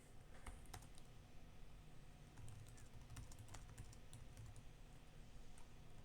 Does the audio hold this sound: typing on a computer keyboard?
yes